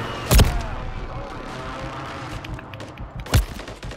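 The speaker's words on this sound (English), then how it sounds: "Oh, we're getting shot from behind." Two sharp gunshots crack out in a video game, one near the start and one near the end, with a low rumbling battle ambience between them.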